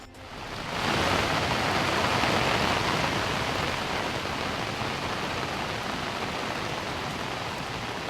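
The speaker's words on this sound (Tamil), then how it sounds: "நீலகிரி மாவட்டம் கூடலூர் பகுதியில் கொட்டி தீர்த்த கனமழை" Heavy monsoon rain pours down in the Gudalur area of the Nilgiris district, a dense, loud, continuous hiss that swells in within the first second and holds steady throughout, with no voices.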